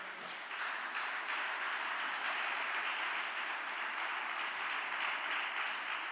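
A church congregation gives strong applause during a Spanish-language sermon, steady dense clapping that holds evenly for several seconds, heard at a moderate distance with no talking.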